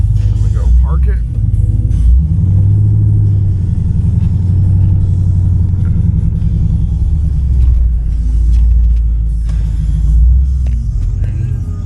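A 2004 Pontiac GTO with a 5.7L LS1 V8 doing reverse burnouts rumbles with a loud, sustained low roar that holds steady throughout, close to the listener, with voices talking over it.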